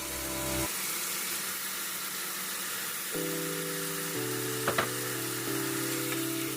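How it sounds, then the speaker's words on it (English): Fresh lamb on the bone hitting a hot pan for a restaurant-style bhuna, a steady loud sizzle and crackle running throughout with a few brief clanks of stirring over a low hum. "Okay, I'm gonna add my meat here, lamb meat, fresh on the bone, guys."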